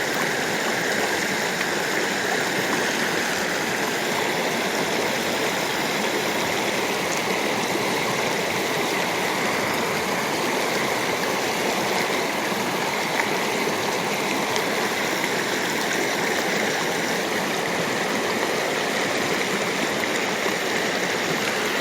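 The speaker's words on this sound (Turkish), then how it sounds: "bayağı akan bir dere. Debisi yüksek bir dere yani" A fast-flowing, high-volume stream rushes over rocks at a gold-panning spot, a loud, steady wash of water that fills the whole stretch with no talking.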